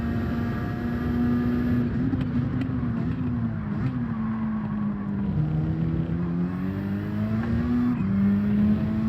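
Race car engine droning in Gran Turismo 7 during a daily race, a sustained whining tone that rises and dips with throttle changes, steady and up close with no talk.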